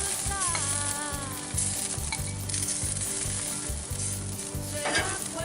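Sausages on a grill give off a loud, continuous sizzle and crackle at close range, running steadily over background music with a brief flare of hissing near the end.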